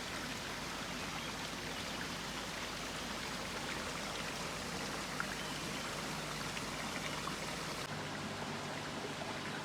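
Water pours from a koi pond into a filter vortex chamber, making a steady rushing and splashing sound that carries on evenly for several seconds before abruptly dropping away near the end.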